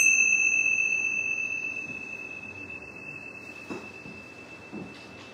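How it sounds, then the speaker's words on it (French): A meditation bell rings with a clear sustained tone that slowly fades, a second higher tone dying away earlier, with a couple of soft knocks near the end. "Faites attention, les cloches s'en viennent."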